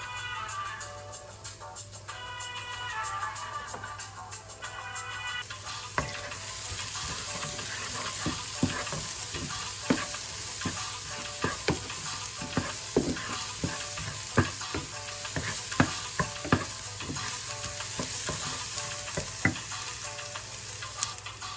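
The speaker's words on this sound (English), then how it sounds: "Shallots and garlic. We're going to saute this until it's translucent." Shallots and garlic sizzle in a pan, a steady frying hiss punctuated by frequent sharp ticks and clacks of a spatula stirring, close and moderately loud with no speech.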